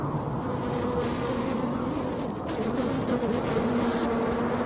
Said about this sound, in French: Les abeilles s'agitent,